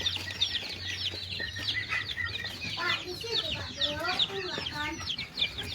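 Chickens cluck and chatter steadily in a coop, several young birds at once, with a low constant hum running underneath the whole time.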